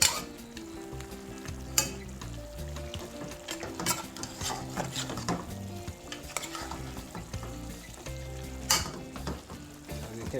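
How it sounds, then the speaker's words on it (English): Jamaican fricassee chicken with ketchup stirred in a pot, a close sizzle with frequent scraping and clanking of a utensil against the pot in an irregular rhythm, alongside a soft music-like tonal background and no speech. "now I will go ahead and stir. Stir everything together"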